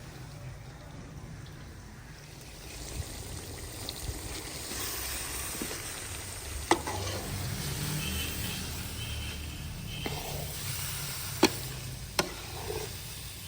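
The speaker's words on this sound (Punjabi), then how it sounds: "ਇਹਦੇ ਵਿੱਚ ਹੁਣ ਮੈਂ ਗਜਰੇਲਾ ਜਿਹੜਾ ਵਾ ਨਾ ਉਹ ਮਿਕਸ ਕਰਾਂਗੀ ਚੰਗੀ ਤਰ੍ਹਾਂ ਭੁੰਨਾਂਗੀ ਵੀ" Carrot halwa (gajrela) is stirred and roasted in ghee and sugar in a village kitchen, giving a steady soft sizzle and scraping with a few sharp clinks of the utensil against the pan, while someone talks over it.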